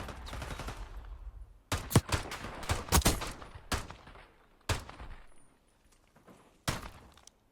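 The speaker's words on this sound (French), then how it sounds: "Et va tomber sous les balles de Tizo 2-0 pour Hero eSport." Gunfire in the video game Call of Duty Black Ops 4 during an esports match: bursts of rapid shots and single sharp cracks, irregular and fairly loud, with no talk.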